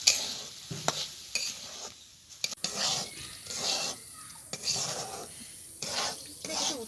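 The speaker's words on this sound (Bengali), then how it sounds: "শুকনো হওয়া পর্যন্ত আমি ভেজে নেব" Soaked Gobindobhog rice and moong dal are stirred in a hot pan, giving a soft sizzle broken by repeated scraping strokes of the spatula in a steady rhythm, close by.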